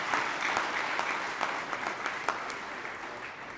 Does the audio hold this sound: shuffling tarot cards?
no